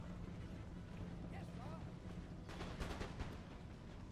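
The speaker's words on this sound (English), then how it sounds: "That was a very nice volley." Cannon volley in Empire Total War, a rolling burst of booming artillery shots clustered near the end, layered over constant battlefield noise and a voice talking throughout.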